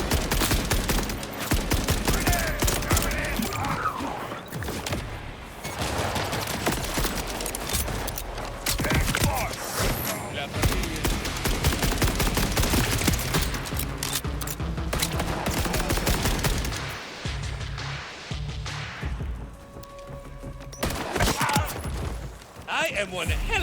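Sustained gunfire in the video game Borderlands 4, dense rapid bursts of shots layered with game effects and music, loud and continuous, with a voice talking over parts of it.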